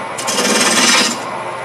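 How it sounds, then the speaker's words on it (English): A roughing gouge shaving spinning wood on a lathe, a close, steady rasping scrape that swells for about a second and then eases off. "One thing that you can do with a roughing gouge is you can shape with a roughing gouge too."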